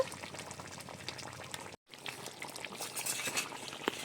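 Meat curry gravy simmering and bubbling after cumin powder goes in, a soft, low, steady bubbling with faint stirring, briefly cut silent near the middle, no voices.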